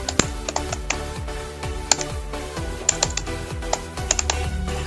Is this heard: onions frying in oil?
no